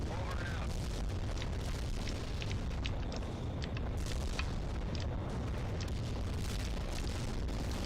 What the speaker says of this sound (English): Drop the tank busters here.